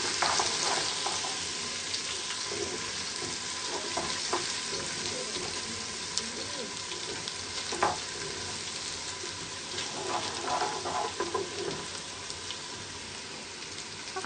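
Garlic and ginger paste frying in a pan with browned onions, a continuous soft sizzle with occasional crackles and light stirring scrapes, no talk.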